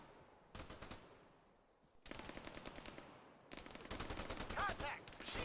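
Rapid machine gun bursts in the military shooter Arma 3, three sustained volleys of fire growing louder and denser toward the end, with faint voices underneath.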